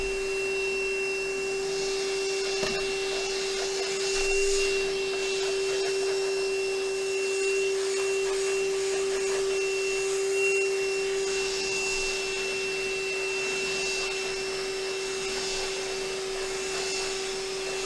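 Vacuum cleaner running steadily and loudly throughout while cleaning off a part before powder coating, a constant whine with little change, no voices.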